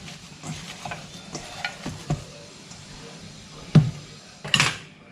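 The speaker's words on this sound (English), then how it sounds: "Give it a mix." Sausage roll filling seasoned with paprika and Italian mixed spices is stirred in a bowl, soft scraping and squelching strokes ending in a couple of louder knocks, with no talk.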